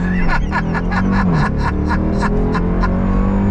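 A 2024 Dodge Durango SRT Hellcat's engine revs hard during a launch, a loud close roar with a pulsing, rising pitch, joined by an excited cheer.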